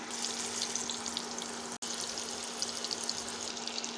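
Pieces of fish tail frying in hot oil, a steady close sizzle with crackling spatter throughout and a brief cut partway through.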